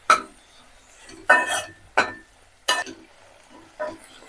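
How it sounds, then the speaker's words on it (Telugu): Ridge gourd cooking in oil with garlic, cumin and curry leaves, a few distinct metallic clinks and scrapes of a spoon against the pan at irregular intervals, close and fairly crisp over a faint sizzle. "బీరకాయ ఇలా బాగా ఆయిల్లో మగ్గాలి"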